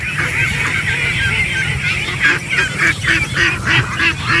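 Ducks on a farm in the Philippines honk and quack in a noisy, overlapping cluster close by, with the calls growing louder and more frequent toward the end.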